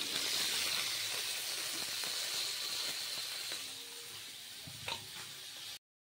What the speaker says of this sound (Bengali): তোমরাও এভাবে ঢাকা দিয়ে মাছটাকে ভেজে নিও